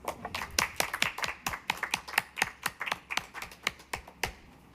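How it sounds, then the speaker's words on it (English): A small group at a school board work session claps unevenly, sharp individual hand claps spread across several seconds, fairly close and not very loud. "Let's give them a round of applause."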